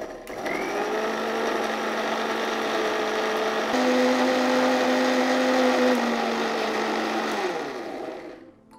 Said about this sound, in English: We will transfer this in a blending jar and we will grind it to a fine puree.